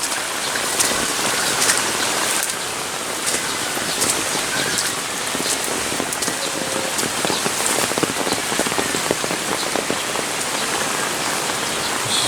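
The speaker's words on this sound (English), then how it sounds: "Well, the rain has lightened up considerably." Steady rain pours onto surfaces outdoors, a dense, continuous hiss of drops with scattered louder patters throughout, close and fairly loud with no voices.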